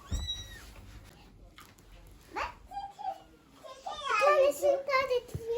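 Kittens meow several times with rising, wavering cries, close by, while a child and an adult speak Turkish in the background.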